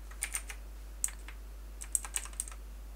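Keystrokes on a computer keyboard, quiet and close, in short irregular bursts of a few taps with pauses between, over a low steady hum and no talking.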